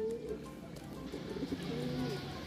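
Racing pigeons back home after training, with soft repeated cooing calls close by over a constant background hum and outdoor noise.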